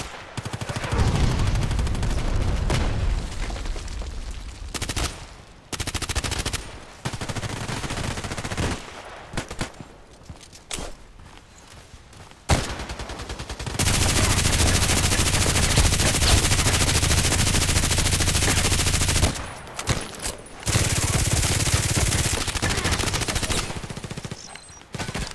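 Heavy automatic gunfire in the shooter game Contract Wars, with an AK-12 among the weapons, rattling in long rapid bursts broken by short gaps, loud and sustained with a few quieter stretches.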